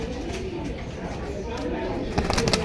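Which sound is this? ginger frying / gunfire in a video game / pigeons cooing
pigeons cooing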